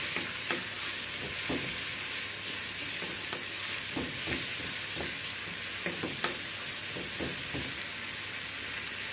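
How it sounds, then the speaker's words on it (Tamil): Onions and tomato sauté in a pan for a squid gravy, giving a steady sizzle with repeated scraping stir strokes throughout, close and continuous with no talking. "வெங்காயம் நல்லா வதங்கிடுச்சு. இப்போ டொமேட்டோ போட்டுக்கோங்க."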